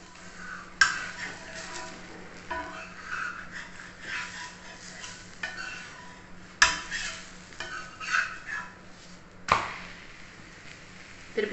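A weight-loss dosa cooks on a pan with a soft, steady sizzle, broken by occasional sharp scraping and spatula clicks.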